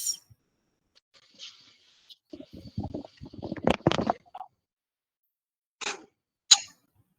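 A burst of rough, throaty coughing close up, followed by a couple of short sharp exhalations and clicks in an otherwise quiet room.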